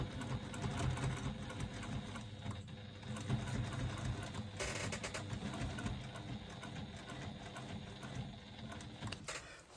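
A domestic sewing machine top stitching a bag's lining to its exterior around curved sides, a faint steady mechanical whirring hum heard alone without speech.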